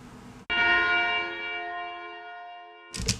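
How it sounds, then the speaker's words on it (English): A single bell strike in the theme music rings out with a bright, sustained metallic tone that slowly decays, followed by a brief noisy burst at the end. "And here's the bell sound."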